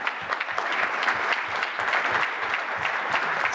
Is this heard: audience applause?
yes